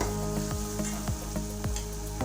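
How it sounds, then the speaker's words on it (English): Onions fry in a pan with turmeric powder for street-style girmit, making a steady, loud sizzle with a faint hum and sharp stirring scrapes that come roughly every half second. "So till then cook it."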